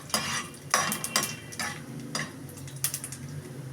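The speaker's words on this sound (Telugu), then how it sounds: "నూనె కాగంగానే ఆ తాలింపు గింజలు వేసి" Tempering seeds dropped into a spoonful of hot oil in a pan for Karnataka girmit, a steady close sizzle broken by several sharp metallic stirring clinks, with no talking.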